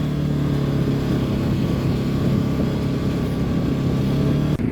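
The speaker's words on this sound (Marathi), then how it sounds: "बघा चढायला गाडी किती आहे आवाज" A Bajaj motorcycle engine drones steadily under load for several seconds, a strained, continuous hum as it climbs uphill, with a brief dip near the end.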